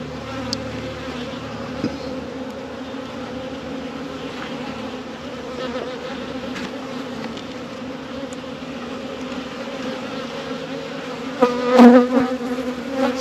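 Honey bees buzz at an opened hive during the first check of 2026, a constant droning hum of many wings close by, with one bee swelling louder as it passes near toward the end.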